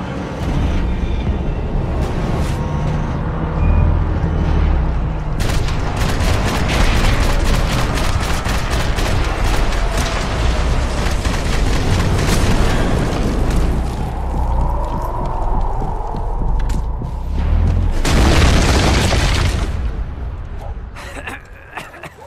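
Gunfire and explosions in the Max Payne 3 video game, with dense bursts of rapid shots, heavy booms and crackling blasts running almost nonstop and loud throughout, broken by a brief lull before a final large blast.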